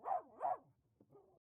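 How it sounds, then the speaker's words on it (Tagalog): A dog barks twice, loud and close, then gives a softer, shorter yelp inside a dark house at night, with no talking. "At sige lang sa pagtahol."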